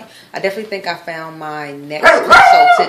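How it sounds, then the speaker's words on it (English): A dog barks in a few sharp, loud yaps near the end, close by, right as a person finishes speaking. "Sorry, that's my dog. He's being a brat."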